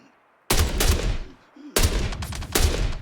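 Two loud bursts of rapid gunfire in Star Citizen, the first about a second long and the second running longer with dense repeated shots, separated by a short quiet gap.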